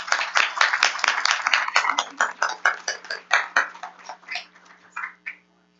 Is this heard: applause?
yes